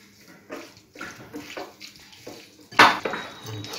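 Soaked soybean chunks with Kashmiri chili powder are squished and mixed by hand in a bowl, soft wet squelches in a loose rhythm, with one sharp clink of the bowl near the end.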